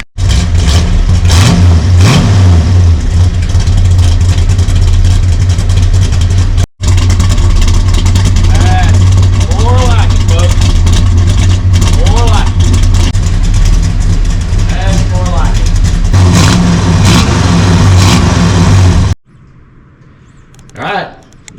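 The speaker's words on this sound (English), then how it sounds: "We're going to fire this thing up so we can hear the exhaust system." A 1966 426 Hemi Satellite V8 runs through its new Accurate exhaust with a loud, deep, steady rumble and occasional revving. It continues for about nineteen seconds, then cuts off abruptly into near quiet.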